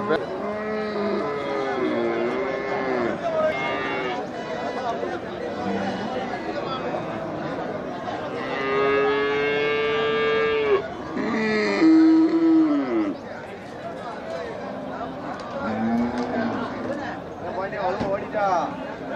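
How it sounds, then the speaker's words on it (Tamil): Kangayam cattle moo repeatedly, long low calls overlapping one another amid steady crowd chatter and voices at a busy cattle market in Melapalayam. "ஆமாண்ணா, காங்கேய மாடு. நல்ல உழவு மாடு"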